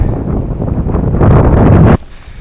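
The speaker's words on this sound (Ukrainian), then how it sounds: "Який океан могучий." Strong wind buffets the microphone on a coastal cliff path in Madeira above the ocean, a loud, rough roar that swells and then drops away abruptly, with no speech.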